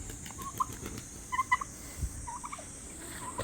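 Brahma chickens, a large breed, make short scattered clucks and calls at moderate distance over a constant high-pitched background hiss.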